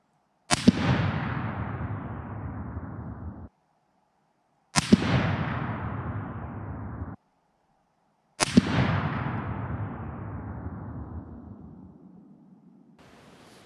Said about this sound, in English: This group should tell us everything we need to know in the 7mm Mauser